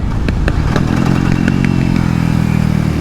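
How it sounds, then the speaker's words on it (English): A KTM RC390 Cup race motorcycle's single-cylinder engine roars loud and close on a race track, a steady buzzing drone with rapid pulsing and clattery mechanical ticks. "this bike doesn't have a slipper clutch, so I have to rev match this baby"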